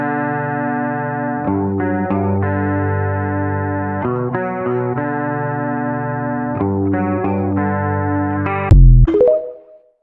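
Overdriven electric guitar plays a repeating chord riff with steady rhythm, ending in a sharp pick scrape and fading ringing note; no voices.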